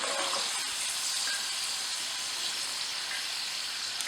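Root vegetables for Surti Undhiyu sizzling in hot oil, a steady bright frying hiss that runs loud and unbroken, with no voices.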